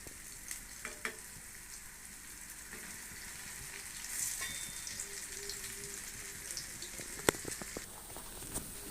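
Urad dal vadas (minapa garelu) fry in hot oil with a steady, soft sizzle and bubbling, punctuated by a few brief clinks and scrapes as they are turned.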